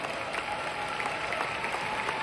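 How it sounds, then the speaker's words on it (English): Audience applause at a Riway International training seminar, a steady wash of clapping from a crowd that holds evenly through the short stretch. "Can we give our Vietnamese brothers a round of applause today?"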